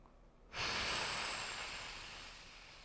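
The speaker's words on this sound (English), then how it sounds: "So those big forceful exhales, just notice the tension in your belly as you exhale like that." A single big, forceful exhale during yoga breathing practice bursts out after a quiet moment as a loud, close, breathy rush that slowly tapers off.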